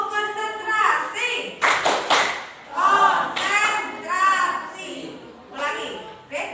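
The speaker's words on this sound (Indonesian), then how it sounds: "Coba tepuk konsentrasi." Schoolchildren do the 'tepuk konsentrasi' routine, rhythmic hand claps between lines they chant together. The claps are loud and near, and the sung voices are audible throughout.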